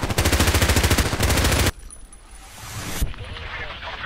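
Gunfire in the online shooter Contract Wars, a rapid automatic burst of about a dozen close, loud shots followed by silence, then a single sharp shot and a faint rattle.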